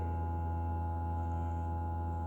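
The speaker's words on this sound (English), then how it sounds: "That's the sound of 84 hertz." A steady low 84 Hz hum from a vibrating device with a toothpick set in it, a continuous even drone held alone for over two seconds at a moderate level.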